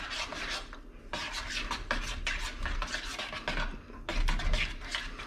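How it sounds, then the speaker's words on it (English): Cheddar cheese being stirred into a bubbling tuna mornay sauce in a pot, with repeated close scraping strokes of a spoon against the pan in a steady rhythm, alone without voices. "Get your cheese in there, get it mixing around."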